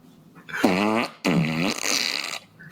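A loud, close fart noise plays out in two long, buzzing, wavering bursts separated by a short gap.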